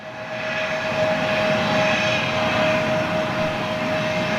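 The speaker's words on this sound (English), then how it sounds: "Oh, look at that little Embraer." A small Embraer jet airliner with CFM engines passes near Manchester airport, a steady loud roar of jet engines that holds for several seconds with a faint whine, no voices.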